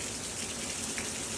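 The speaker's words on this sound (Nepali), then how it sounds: "कति परेको त पानी लगातार एकछिनै रोक्दैन त" Heavy continuous rain falling in Korea, a brief dense hiss of downpour at steady loudness with no voices.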